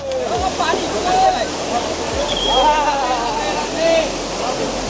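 Water surges through a big, swollen stream along the Panhala to Pavankhind route, a constant close roar that never lets up, with people talking excitedly over the noise.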